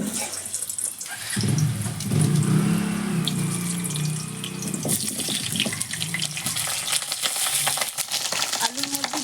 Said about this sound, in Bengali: তেল গরম হয়ে গেছে এবার আমি আলুগুলো ভেজে নেবো